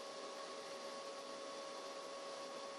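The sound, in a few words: CNC machine v-grooving aluminium composite panel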